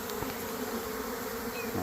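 Honeybees hum in a dense, steady buzz around a hive being set up in a ten-frame Langstroth box, close and continuous with individual bees droning past.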